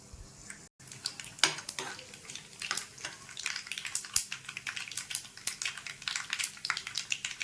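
Mustard-type tempering seeds and dried red chilies crackling in about three spoons of hot oil, a steady busy spatter of small pops and sizzles close by, with no voices.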